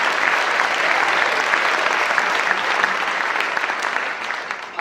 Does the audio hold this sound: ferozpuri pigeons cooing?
no